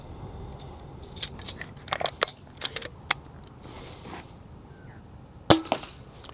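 Nerf-style ballistic knife blaster, a gun-blade melee toy firing Worker foam darts, giving a run of sharp clicking snaps spread unevenly over several seconds, with a louder crack near the end.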